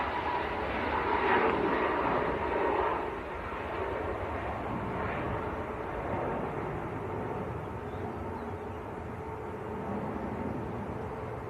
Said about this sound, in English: We're going to have a plane from the left and a plane from the right.